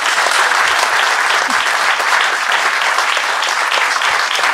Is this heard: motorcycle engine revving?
no